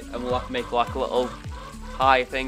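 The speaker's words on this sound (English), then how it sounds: "sorry for the chicken noise, it doesn't show up, does it?" Chickens cluck repeatedly in the background, their calls rising and falling beside a koi pond while a person talks over them.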